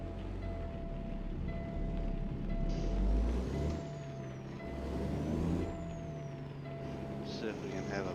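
A truck's air brakes hiss and release in the rain, several loud bursts rising over a rumbling idle engine, with a steady tone and occasional higher squeals as someone talks.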